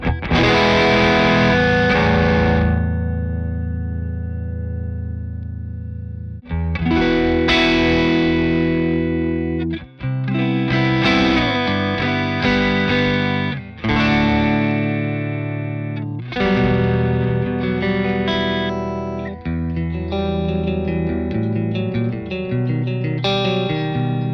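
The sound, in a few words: guitar through overdrive pedal, clean boost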